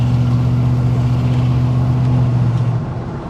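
A 1983 Chevrolet C10 Squarebody truck drives with a steady, droning engine hum over road rumble, the engine note dropping away near the end.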